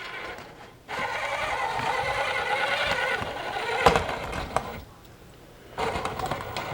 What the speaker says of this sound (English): we're going to try out the frame bender first